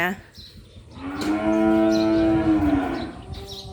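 Cattle in a flooded pen let out one long, loud moo of about a second and a half, nearby and clear, with the wet, noisy farmyard around it.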